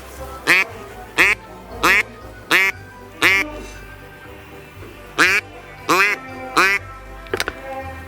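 Loud, drawn-out wild duck quacks repeat at a regular pace, about eight in all with a short pause midway, close and clear over a quiet outdoor background during a duck hunt.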